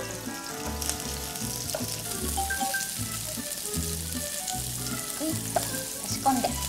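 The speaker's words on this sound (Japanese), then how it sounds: "焦げつかないよう時々フライパンを揺すろう。" Loco moco hamburger patties fry in a pan with a steady close sizzle and crackle, broken by occasional louder pops and scraping pan shakes, over background music.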